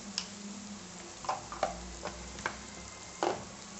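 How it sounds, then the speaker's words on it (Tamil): Potato and egg stir-fry being stirred in a pan, with faint sizzling under a few soft scraping and tapping strokes of a spoon, quiet and close. "நல்லா கிளறி விடலாம்"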